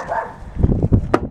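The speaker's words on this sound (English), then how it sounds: "Shut up, dog." A dog barks outdoors on a windy day, a few short muffled woofs in quick succession, moderately close and partly blurred by wind noise.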